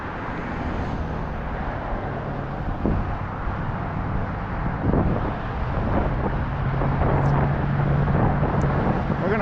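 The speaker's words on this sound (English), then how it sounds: "getting a little breezy right now" A breezy wind rushes past on an outdoor walk as a steady, low, rumbling buffet against the microphone, swelling slightly toward the end, with no voices.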